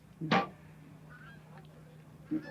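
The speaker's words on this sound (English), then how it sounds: "You don't think those Canada geese coming over are going to distract him?" A single loud Canada goose honk rings out near the start as geese fly overhead, followed by a fainter honk about two seconds later over a low steady hum.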